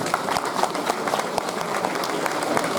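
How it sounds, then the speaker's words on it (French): Sustained applause from a crowd at the 2016 24 Heures de Saint Jo kart race, steady dense clapping filling the whole moment at moderate loudness with no voices over it. "On peut les applaudir."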